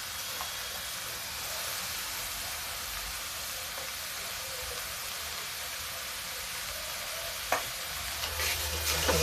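Tomatoes sizzle steadily in a hot pan with kasuri methi while being stirred, a continuous bright frying hiss with occasional scraping stir sounds. Close and fairly loud, with no one talking.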